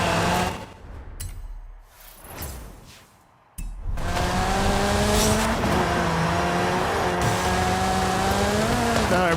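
Car engine in a racing video game, droning with a thin, buzzy, high-pitched tone like a weed whacker; after a brief lull it rises into a steady, loud, sustained rev with climbing pitch.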